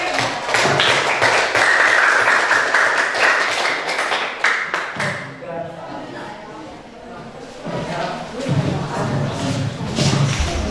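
A university class audience claps in a dense burst of applause after a persuasive speech, fading midway, then picking up again more loosely toward the end.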